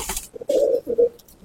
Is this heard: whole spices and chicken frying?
no